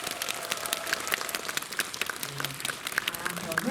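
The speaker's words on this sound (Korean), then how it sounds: "박수로 한번 치고 가요." Audience applause at a special premiere screening for a drama series, scattered crisp hand claps rising into a steady patter, moderately quiet, with faint voices underneath.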